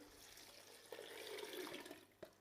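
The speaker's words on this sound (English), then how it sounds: "I'm going to put the water in next. So it's 2 litres. So let's pour it in." Two litres of water pour into a pot of minestrone soup, giving a soft, continuous splashing stream that swells slightly before a brief splash near the end; quiet, with no talk.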